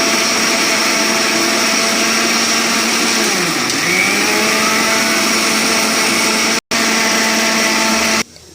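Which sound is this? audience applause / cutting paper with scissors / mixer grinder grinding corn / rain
mixer grinder grinding corn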